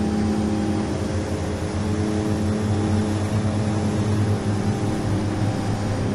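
Twin turboprop engines of a DHC-6 Twin Otter run below full power in Flight Simulator X, a loud, steady drone with a constant hum and no voices.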